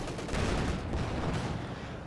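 Rifle gunfire from infantry squads in a winter 2v2 match of the video game Company of Heroes 2 on Rzhev, a dense continuous crackle of shots and battle noise with no clear breaks.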